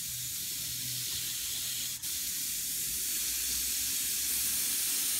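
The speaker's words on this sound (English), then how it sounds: "When you're spraying the stencil, make sure you keep your airbrush square to the stencil" A steady, fine hiss of an airbrush spraying paint over a stencil continuously, close up, with a brief interruption partway through and no talking.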